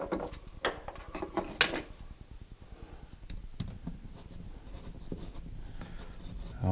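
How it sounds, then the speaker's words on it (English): Screws being backed out of an old thermostat during replacement with an ecobee3 smart thermostat, with close, irregular scraping and clicking bursts and small metallic taps between quieter pauses. "I'll take the screws out."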